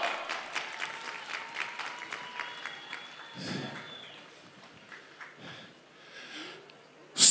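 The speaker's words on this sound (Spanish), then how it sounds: "Un aplauso más fuerte" Audience applause at a festival award ceremony in Chile Chico, with dense clapping loudest over the first few seconds, then thinning into scattered claps and crowd noise before a sharp burst at the end.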